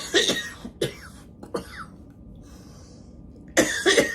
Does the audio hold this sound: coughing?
yes